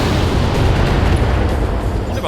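A missile barrage slams into targets in modded Battletech, a dense, loud, continuous rumble of overlapping explosions that fills the whole moment, with voices speaking under the blasts.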